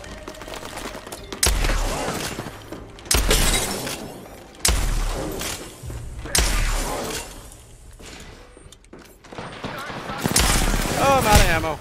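Gunfire in Apex Legends: a handful of sharp, loud volleys spaced a second or two apart, each a quick crackling burst, with a voice talking over the game sounds.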